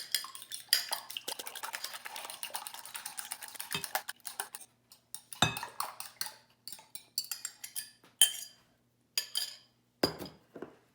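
Three eggs beaten in a bowl with a whisk or fork for chocolate crinkle cookies, rapid clicking and tapping strokes in quick bursts with short pauses, close and crisp.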